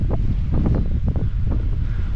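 Strong gusty wind buffets the microphone of a cyclist riding on a road, producing a loud, rumbling roar with uneven surges throughout.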